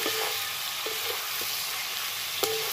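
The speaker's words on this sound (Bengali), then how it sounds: "একদম যতটা বিরিয়ানিতে লবণ লাগবে বন্ধুরা, ততটা লবণই কিন্তু এখানে আমি দিয়ে দেবো একেবারে। দিয়ে এটাকে খুব ভালো করে আবার" Chicken with salt frying in a pan for a low-oil biryani, a steady close sizzle with a few light utensil taps and scrapes, no talking.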